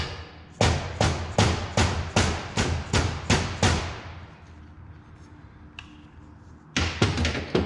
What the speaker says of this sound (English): gently tap your piston down into the bore